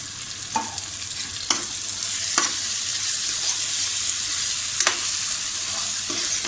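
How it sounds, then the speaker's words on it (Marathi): Masala gravy for egg biryani frying in a pan, a steady close sizzle with occasional sharp scrapes and knocks of a spoon stirring it, no voices. "आपल्याला हा संपूर्ण मसाला व्यवस्थित परतायचा आहे"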